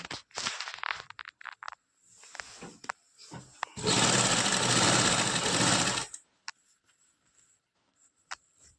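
A sewing machine stitches the button placket on a kurta, one burst of steady whirring stitching about two seconds long, set between scattered handling clicks and quiet pauses.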